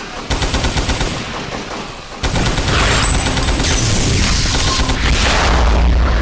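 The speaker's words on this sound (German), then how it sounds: "Eine Granate." Explosions and gunfire roar loudly in the Übersoldier 2 video game during a fight in the ruins of Berlin, with a heavy boom midway followed by dense rumbling blasts and rapid shots.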